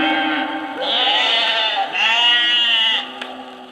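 Sheep in a flock bleat in long, wavering, nasal calls, two or three sustained cries overlapping close by with a faint hint of other animals behind.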